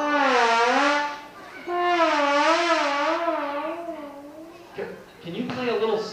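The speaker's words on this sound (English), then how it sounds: "Mark, would you play a glissando, please?" A slide trombone plays glissandos, smooth brassy tones swooping and wavering up and down in two long sustained sweeps, followed by a few shorter sliding phrases, heard up close and alone.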